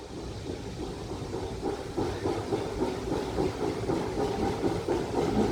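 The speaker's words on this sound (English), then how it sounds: "So we're departing no.1 train station on the Dean Forest Railway." Steam train hauled by the locomotives Judy and Uskmouth on the Dean Forest Railway, giving a steady hiss of steam over a low rolling rumble with faint rhythmic pulsing, moderately distant and without voices.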